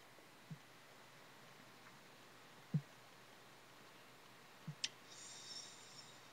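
A computer mouse clicks a few times at a desk, sharp isolated clicks spaced apart over a faint steady hiss, with a brief rustle near the end.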